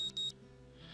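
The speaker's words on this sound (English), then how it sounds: "The sound of an alarm pulls me out of a fitful slumber into the unpleasant state of wakefulness." A digital alarm clock in the visual novel Katawa Shoujo sounds two short, shrill electronic beeps at the start, then gives way to a quiet, low hum.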